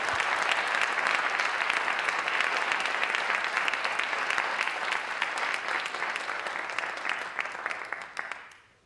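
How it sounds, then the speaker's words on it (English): An audience gives a sustained round of applause, dense steady clapping filling the space for several seconds before quickly fading out at the end. "Give it up, a round of applause for him again."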